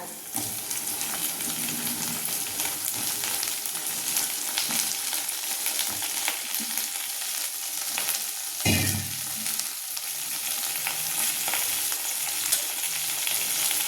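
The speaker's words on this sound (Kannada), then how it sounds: "ಫ್ರೈ ಆಗ್ತೀನಿ ಎಣ್ಣೆಯಲ್ಲಿ." Onions fry in hot oil in a pan for brinjal palya, a constant sizzle and crackle with scraping stirring strokes, close and alone.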